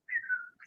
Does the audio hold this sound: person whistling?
yes